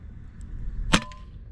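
A single sharp report from a .22 PCP air rifle fired at sparrows on pallets about 30 yards away, one crisp crack standing out over a low outdoor background rumble.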